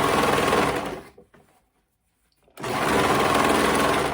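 A sewing machine stitches a cuff onto color-blocked kids' joggers, giving two loud bursts of fast, steady whirring separated by a silent pause of about a second and a half.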